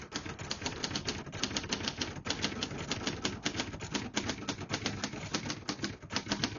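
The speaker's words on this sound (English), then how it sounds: "I'll type a sentence on this next line." Rapid, steady key strikes on a 1970 Hermes Media 3 portable typewriter clatter in an even rhythm, with brief pauses between words and one carriage-return-like break, close and clear with no voice.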